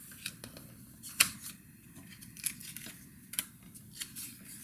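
A paper trimmer's cutting blade slices through card in a handful of short, crisp scraping strokes over a steady low hum, close and fairly quiet, with no one speaking.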